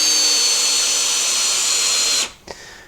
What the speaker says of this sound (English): driving in some 2-inch screws into this 8/4 piece of hard maple